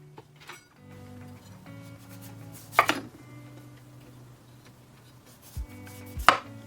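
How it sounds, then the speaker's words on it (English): A chef's knife cuts the ends off a honeydew or cantaloupe melon on a board, giving two sharp chopping thuds against a low steady hum, close and clear. "First up, take your melon and we're going to cut off either end."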